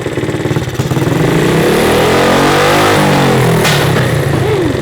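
A Honda CT70 motorcycle with a home-built exhaust idles loudly up close, then revs up, its engine note climbing and holding before dropping back.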